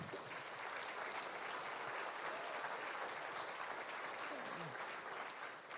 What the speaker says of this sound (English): how about we give another round of applause for the panel there